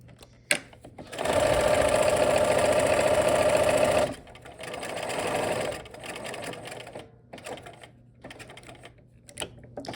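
A sewing machine back stitching a seam on a quilt piece, a steady loud motor-driven stitching run lasting about three seconds, followed by a shorter softer burst and quiet handling noise.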